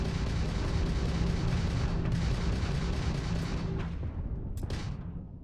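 Enemy missiles exploding during a Starfield space battle, heard as a dense, loud, rumbling barrage of blasts that gradually thins out, with a couple of sharp bursts near the end.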